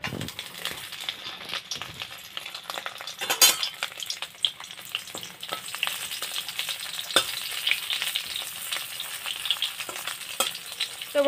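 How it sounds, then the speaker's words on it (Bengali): Fish frying in hot oil in a wok, a dense, continuous sizzle and crackle with occasional stirring scrapes, close and steady throughout. "কড়াই এই যে গরম হয়ে গেছে, তেল দেওয়া হয়ে গেছে। তো এখন কিন্তু মাছটা আমি ভেজে নেব।"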